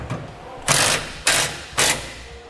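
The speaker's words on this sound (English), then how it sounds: "And we'll be using the same 3/4 socket to tighten these two." A 3/4-inch socket ratchet tightening trailer hitch bolts on a 2015 Ram 1500, three loud close rasping bursts of clicking at an even pace over a low background hum.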